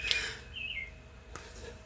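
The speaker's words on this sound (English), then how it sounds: "I don't know if you heard that bird whistling." A short bird whistle rings out a couple of times over a quiet background, clear but not very loud.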